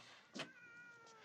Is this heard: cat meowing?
yes